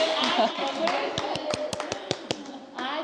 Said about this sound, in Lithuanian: prašau aplodismentai